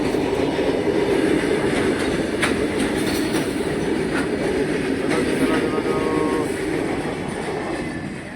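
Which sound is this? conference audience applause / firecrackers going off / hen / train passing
train passing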